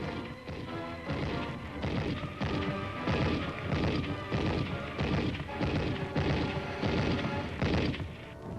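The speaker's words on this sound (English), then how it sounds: "A recoilless rifle is brought into action against the stubborn resistance. A machine gun lends its firepower as the advance gets fully underway." Recoilless rifle and machine gun fire in Korean War combat in 1951, heard as a loud, steady run of sharp, booming bursts at a fairly regular pace, with a dense rumble between them.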